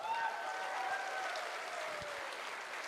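Audience applauding at an event with Swapnil Joshi, a steady wash of many hands clapping that stays fairly even and slowly tapers, heard from within the hall.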